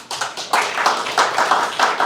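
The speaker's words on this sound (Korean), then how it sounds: "학계를 우리 다시 한번 박수 줍시다." A church congregation clapping during a Thanksgiving service, loud and close with uneven bursts of claps that come in rhythmic waves over a couple of seconds.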